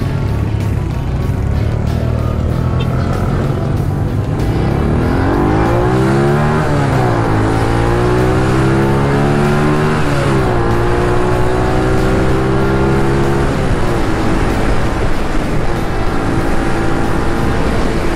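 A SYM RV1-2 motorcycle engine runs loudly and steadily, revving up and down several times with rising and falling pitch.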